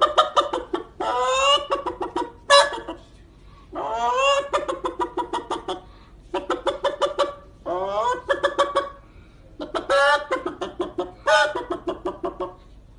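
A hen clucks in repeated bursts of rapid, rhythmic cackling calls, close and fairly loud, broken by short pauses throughout.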